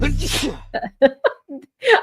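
A man sneezes once, loud and close, followed by a few short breathy gasps and sniffs.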